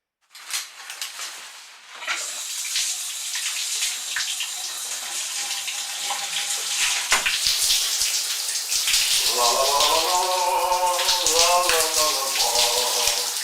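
Water gushes from a tap or shower at good pressure, a bright, steady hissing spray that starts abruptly and runs continuously, with a voice humming or speaking faintly over it toward the end.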